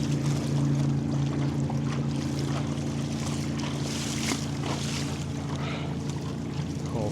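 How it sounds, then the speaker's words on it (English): Loud, fast motorboats pass on a Finger Lakes lake, a steady low engine drone with a hull-and-wake wash riding over it, heard up close from a kayak among the cliffs. "The loud boats, the loud and fast boats."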